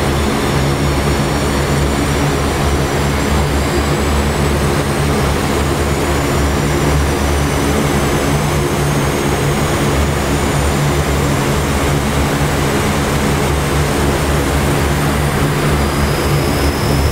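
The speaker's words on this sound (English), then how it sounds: "Now let's start number two." A C-130 turboprop's number two engine spools up in the DCS flight simulator, a loud, steady droning roar with a rising high whine running unbroken throughout.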